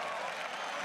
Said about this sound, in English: The crowd cheers for Peke.